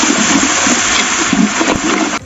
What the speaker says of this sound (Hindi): पानी डालेंगे जी इसमें।